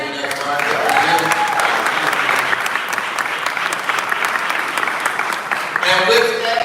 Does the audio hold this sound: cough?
no